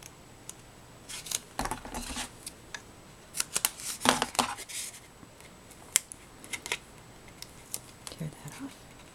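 Score tape is torn off while a small gift box is assembled, giving bursts of sharp, crackly ripping and rustling pulls separated by short pauses, fairly quiet and close.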